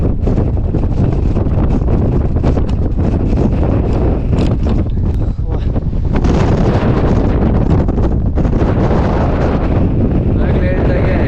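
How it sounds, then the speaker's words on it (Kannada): Strong gusting wind roars across the microphone on Mullayanagiri, the highest peak in Karnataka, loud and continuous throughout, with faint voices underneath. "ಗಾಳಿ ತಳ್ತೈತೆ, ಹುಷಾರು."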